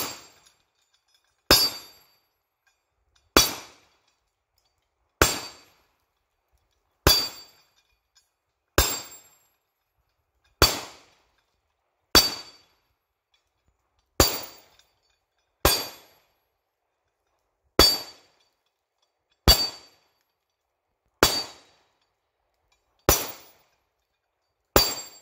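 A Rock Island Armory TAC Ultra threaded 10mm pistol fires about fourteen sharp, loud shots, spaced roughly one to two seconds apart in a steady cadence, each a crisp crack with a short decay and near silence between.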